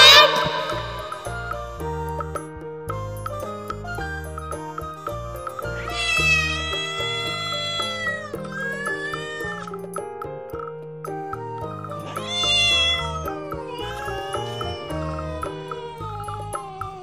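Repeated cat meows, some drawn out and wavering, set against a steady musical backing.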